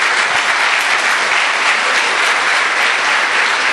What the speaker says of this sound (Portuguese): Se puder, aplauda o Senhor em nome de Jesus pela sua palavra.